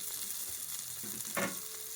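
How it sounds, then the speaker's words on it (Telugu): A bunch of fresh coriander leaves drops into onions frying in a pan, with a steady hiss of oil and a brief louder sizzle and stir as the leaves hit. "ఈ టైంలోనే కొత్తిమీర కూడా వేసేసుకుందాం."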